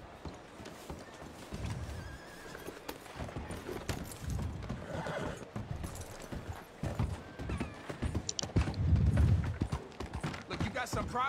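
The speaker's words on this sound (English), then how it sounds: "O meu cavalo aqui. Cavalinho novo." Video game horse hooves clip-clop in an uneven walking rhythm at moderate volume, with a whinny partway through and someone talking over it.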